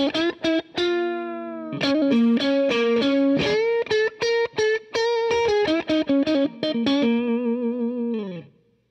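Electric guitar on the combined middle and neck pickups through a Boss DS-1 Tri Roxx Plus modded distortion pedal, played as punchy clipped chord stabs and short held notes in a bluesy rhythm, ending on a sustained ringing chord.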